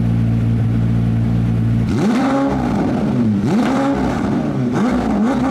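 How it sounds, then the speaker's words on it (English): McLaren 765LT supercar engine and exhaust, idling steadily and then revved hard several times in quick succession, loud and close, each rev rising and falling sharply. "And of course, it sounds pretty good. Take a listen to the"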